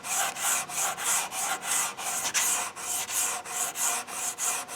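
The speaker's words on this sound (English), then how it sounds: "the sanding block changes the color of the primer from a dull to a sanded look" Hand sanding of primer on a Cutlass fender with a sanding block: rhythmic back-and-forth abrasive rasping strokes, about three per second, close and steady with no voices.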